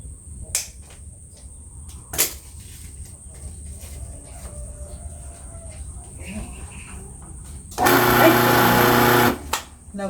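A vegetable shredding machine is switched on after a few clicks and quiet handling sounds, and it runs with a loud, steady mechanical whir for over a second before stopping.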